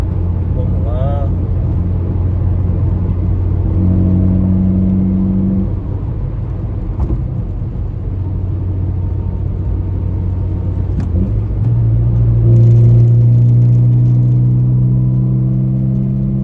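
A remapped car engine revs and pulls with a steady low drone that climbs in pitch, heard from inside the cabin, with someone talking over it.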